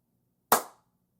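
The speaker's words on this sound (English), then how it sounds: "we're going to do a little clap" A single sharp hand clap rings out once in an otherwise quiet room, a close, crisp burst that fades quickly with a faint low hum underneath.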